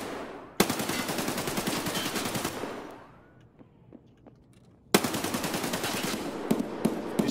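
Video game gunfire from a factory map firefight: a long loud burst of rapid automatic shots, a short lull with a few scattered pops, then another sustained burst, with no one talking.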